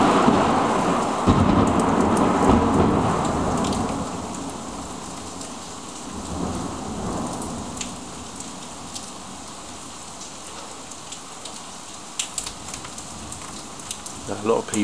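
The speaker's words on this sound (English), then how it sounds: "A lot of people might say this is a weather modified storm." Thunderstorm with heavy rain over Brighton & Hove, UK: a dense rain wash with low thunder rumbling loudest in the first few seconds, then easing to a steadier, softer patter with a few sharp drips near the end.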